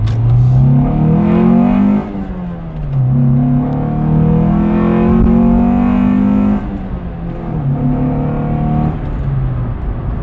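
A 1998 Acura Integra RS accelerates hard through its gears, the engine climbing loudly in pitch, dropping briefly at each of two or three upshifts, then rising again, heard close and alone.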